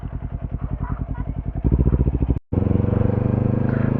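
A motorcycle engine runs close by with a steady, loud pulsing throb that surges and shifts in rhythm, cuts out briefly, then returns strongly.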